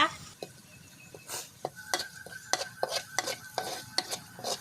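Red curry paste is stir-fried in cracked coconut cream for a pumpkin and pork curry, with a soft sizzle under a regular run of spatula scrapes and taps against the pan.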